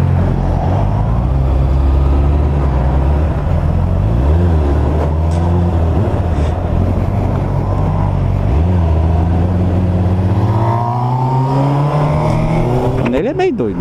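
A Honda CBR 600F motorcycle engine revs loudly while being ridden, its pitch rising and falling through repeated swells and gear changes, close and sustained for the whole stretch.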